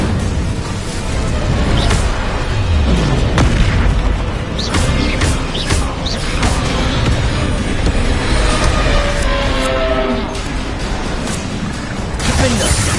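Repeated booming fire-spell blasts in Hogwarts Legacy, loud and dense, with several bursts and pops layered over continuous heavy combat rumble for the whole stretch.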